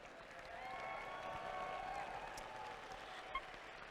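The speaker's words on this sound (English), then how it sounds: "keep the applause going to welcome back our referees" A large audience at the 2016 Sacramento Regional competition applauds steadily to welcome back the referees, a distant, sustained wash of clapping with faint crowd murmur that holds level for about four seconds.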